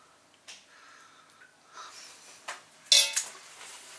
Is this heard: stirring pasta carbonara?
yes